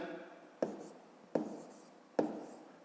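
A pen writing numbers on paper while working long division, three quick sharp strokes spaced evenly, each followed by a soft fading scratch, quiet and close.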